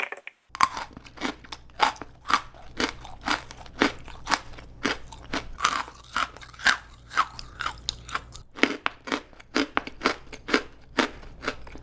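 Whoppers malted milk chocolate balls crunched and chewed up close, a steady run of sharp, brittle crunches repeating every fraction of a second, loud against near silence and with no talking.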